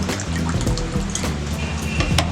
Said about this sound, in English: Just add enough water to a vessel so that the tomatoes can drown in with that